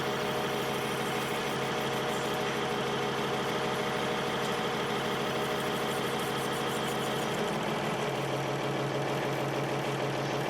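A lathe making a facing cut at 375 rpm with manual feed gives a continuous loud mechanical drone with a steady rhythmic knocking running through it, holding constant from start to finish.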